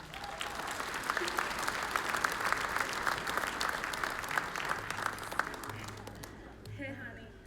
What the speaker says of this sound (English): Please give contestant number 8 a big,